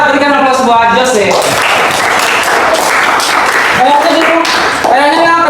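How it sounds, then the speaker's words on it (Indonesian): Classroom applause for a student: a room of pupils clapping steadily and loudly throughout, with voices calling out over it and a teacher speaking at the start and end. "berikan aplaus buat Jose"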